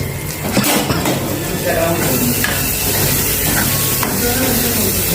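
Masala for a vegetable curry sautés in hot oil with a steady loud sizzle and stirring scrapes in a pan, someone talking over it.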